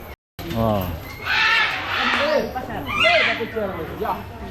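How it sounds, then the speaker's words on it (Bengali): A macaw at the Gazipur safari park gives a couple of harsh, loud squawks, heard between and beneath visitors talking on a cloudy day. "ম্যাকাও"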